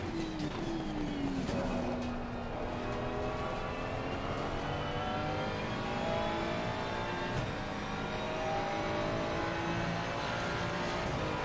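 A McLaren race car engine in the racing game Assetto Corsa Competizione, a steady high-revving drone that climbs in pitch through the gears, loud and continuous with no voices.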